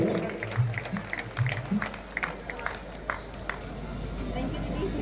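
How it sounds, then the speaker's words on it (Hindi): Scattered clapping from a crowd at a Pandavani folk performance festival in Chhattisgarh mixes with murmuring voices and people talking, moderately loud and fairly continuous. "जोरदार ताली बजाकर स्वागत करेंगे।"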